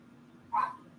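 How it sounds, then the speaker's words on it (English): A single short dog bark or yip rings out briefly in a quiet indoor room, fairly faint and alone with no talk. "It's a shame that you're barking."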